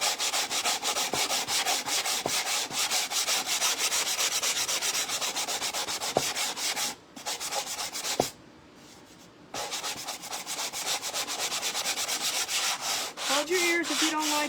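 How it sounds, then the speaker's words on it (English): Sandpaper rubs steadily across a painted wooden family home sign, a loud continuous scratchy hiss with rhythmic strokes, one brief pause near the middle, then sanding resumes to the end. "So I'm going to sand it and see if we can get it smooth"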